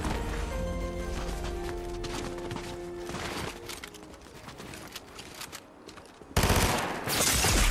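Rapid gunfire from the video game Fortnite, a dense burst of shots over game music, followed by a louder sharp blast near the end; no talk.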